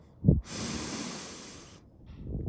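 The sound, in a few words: person inhaling deeply during breathing exercise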